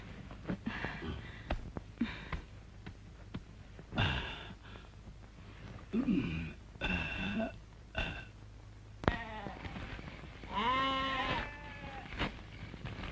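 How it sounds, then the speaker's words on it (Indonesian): Goats bleat repeatedly in a scene from a 1982 Indonesian film, with several wavering cries spread across the clip, some short and some drawn out, over a faint background and with no talking. "Dari tadi kambing kita ngebek terus."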